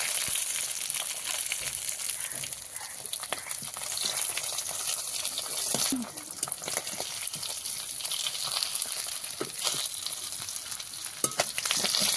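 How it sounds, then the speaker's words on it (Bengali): Fish frying in hot oil in a home kitchen, a continuous bright sizzle and crackle with occasional spatters and stirring, steady and close throughout with no talk. "এবার এগুলো সুন্দর করে ভেজে নেব"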